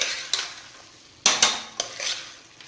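Soaked rice being fried with masala in a pan, a soft sizzle broken by a few sharp scrapes and clanks of a spoon stirring against the metal.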